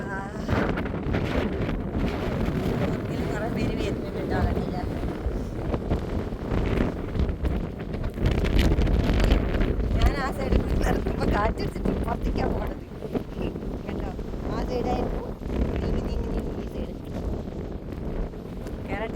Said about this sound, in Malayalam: ഇവിടെ നല്ല അടിപൊളി കാറ്റാണ് കേട്ടോ